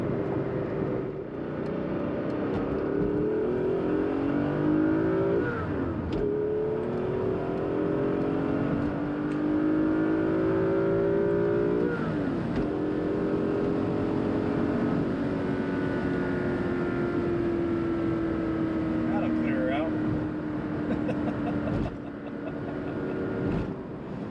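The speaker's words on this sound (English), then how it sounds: "Now that I'm back behind the wheel of this Dinan S2 Z8" A Dinan-tuned S2 BMW Z8 roadster on the move, its engine droning steadily with rising and falling pitch through gear changes, a continuous close-up cabin sound with no talking.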